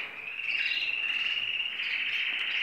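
Canaries in a breeding aviary give a continuous, high-pitched twittering chorus of overlapping chirps and trills, steady and fairly close, with no talking.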